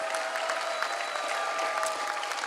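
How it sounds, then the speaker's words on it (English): Steady applause from an audience at an annual Bal Vihar event, even and dense throughout with no pauses. "Please give them a hand of applause."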